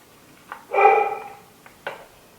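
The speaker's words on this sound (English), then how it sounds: "My dog's barking." A dog barks indoors, one sharp yap followed by a longer, louder bark and another short bark, moderately close and with no talk over it.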